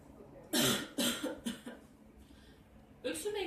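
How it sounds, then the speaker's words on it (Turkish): A person demonstrates a deep-breathing and coughing exercise in a health training setting. Several close, sharp coughs come in quick succession after a quiet breath hold, followed by a pause and then another cough burst. "nefesi alışında 1-2 saniye şeklinde nefesini tutmasını, daha sonrasında 2-3 kez art arda öksürerek nefesini vermesini isteyeceğiz."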